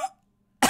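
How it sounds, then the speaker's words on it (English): A single short cough from a man playing a physics-based ragdoll video game, a brief burst at the very end after a moment of near silence, preceded by a faint trailing vocal sound. "It appears I'm developing a cough."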